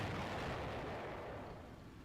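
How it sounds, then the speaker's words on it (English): A 2-inch mortar shelling in the Combat Mission: Beyond Overlord video game, a single deep, rumbling blast that fades slowly over about two seconds, heard alone without talk. "there's a 2-inch mortar there. Oh, yeah. So bombarding that left side"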